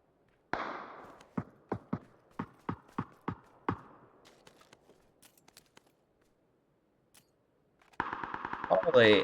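Sharp single shots from a Vector submachine gun ring out in a rapid evenly spaced string of about eight in a video game, followed by faint distant shots and then a burst of louder noise at the end.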